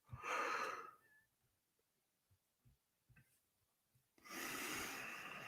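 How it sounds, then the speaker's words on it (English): A big, drawn-out human yawn comes through close and loud, then a quiet gap with small breaths before a second long breathy exhale, like a tired sigh. "As I let out a big old yawn."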